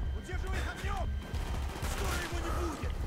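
Rapid gunfire from a first-person shooter, Call of Duty Black Ops, with dense bursts of automatic shots running through the clip amid battle noise.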